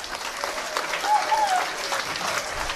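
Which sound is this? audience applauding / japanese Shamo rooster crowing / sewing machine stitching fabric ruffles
audience applauding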